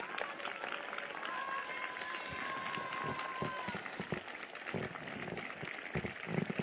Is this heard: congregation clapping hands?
yes